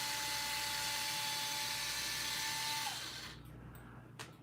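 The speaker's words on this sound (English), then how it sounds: "We're moving to the power tools." A high-pitched power tool whines steadily during work on a radio-controlled solid-axle monster truck, then winds down and stops, followed by a couple of faint clicks in a quiet room.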